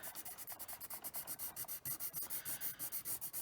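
Colored pencil burnished firmly over paper in a quick, steady series of short rubbing strokes, close and fairly quiet with a regular back-and-forth rhythm, no voices.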